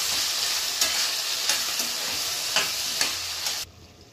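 Vegetables fry in a pan for upma, giving a steady hiss broken by several sharp stirring clatters about every half second, until the sizzle cuts off abruptly near the end.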